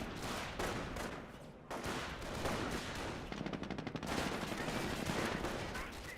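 Rifle and machine gun fire crackles through a Company of Heroes battle, bursts of shots and a rapid rattling stretch of automatic fire, fairly faint and continuous with no voices over it.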